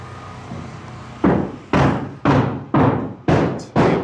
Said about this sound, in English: you're going to hear construction going on